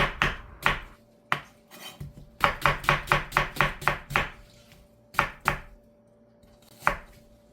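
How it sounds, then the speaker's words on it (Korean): A knife slices onion into thin strips on a cutting board in quick bursts of sharp, crisp strikes, close up, with short pauses between runs of slicing. "양파는 채 썰어서 두개 들어갈 거예요"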